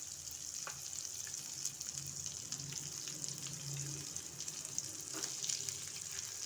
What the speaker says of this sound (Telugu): అయిపోయిందండి ఫిష్ ఫ్రై ఇట్లా కాలితే బాగుంటుంది